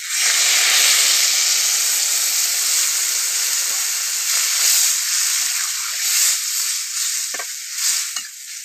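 Water poured into a pan of silver carp and eggplant curry hisses and steams loudly, a dense, continuous sizzle that slowly eases, with a few faint clinks near the end.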